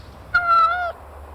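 A white cat lets out a single clear meow lasting about half a second, close and distinct against a quiet background.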